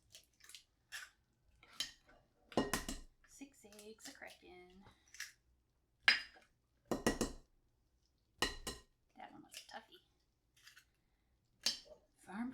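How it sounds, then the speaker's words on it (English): Six eggs cracked one after another into a bowl: a series of sharp, brief taps and cracks with liquid drops, fairly close, spaced irregularly with quiet gaps between. "we're gonna crack those in the bowl and get them all whisked up"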